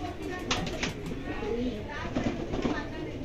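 A female pigeon coos softly in short repeated phrases close by, partly under a voice talking.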